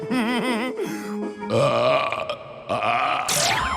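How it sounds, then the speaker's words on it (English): A long, loud, drawn-out belch with a gurgling, croaky rumble, followed by a second burp, close up and unaccompanied by other sounds. "Anyone up for a burping contest?"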